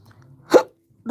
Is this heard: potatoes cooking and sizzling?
no